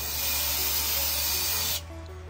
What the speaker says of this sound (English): I'm gonna go ahead and spray this down, try and get it nice and clean.